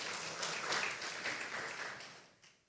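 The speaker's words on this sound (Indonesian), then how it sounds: "Berikan tepuk tangan bagi Tuhan kita." Church congregation applauding together, a steady dense wash of clapping that fades out toward the end, fairly distant in a large room with no speech over it.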